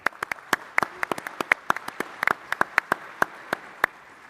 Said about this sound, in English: So how about a round of applause for those two gentlemen?